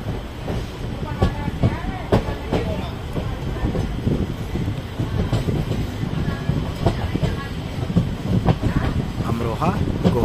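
A passenger train rumbles steadily along the tracks just after leaving Amroha Junction, with continuous rolling clatter and wind noise from an onboard position, loud and unbroken.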